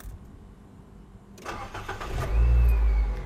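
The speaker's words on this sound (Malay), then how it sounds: "Saya akan cuba start kereta ni." A car engine cranks and starts on a low-voltage battery, reading about 12.49 volts before and dipping to 10.53 volts during cranking, then settles into a loud, steady idle after a quiet moment.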